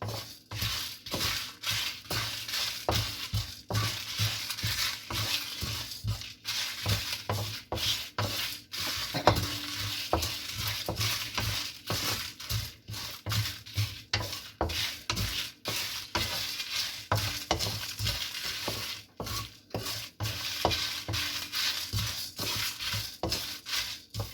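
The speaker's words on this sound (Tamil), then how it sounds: "கொஞ்சம் இந்த கடலைப்பருப்பெல்லாம் ஒரு மாதிரி கோல்டன் ப்ரௌன் ஆகிற வரைக்கும் நல்ல மணம் வரும் உங்களுக்கு, அது வரைக்கும் நம்ம வறுத்துக்கலாம்." Chana dal is dry-roasted in a pan for puliyotharai, a spoon stirring and scraping the lentils in a steady rasping rhythm with a faint crackle underneath, and no voices.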